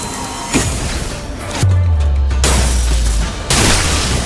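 Gunfire in the video game Limbus Company, a burst of loud booming shots with heavy low rumble, punctuated by sharp cracks, dense and close with game effects layered over it.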